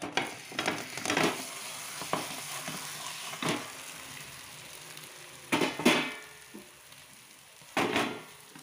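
A broccoli and capsicum omelette fries in a pan with a steady, close sizzle, broken by several louder crackling bursts spread through the clip; no one speaks.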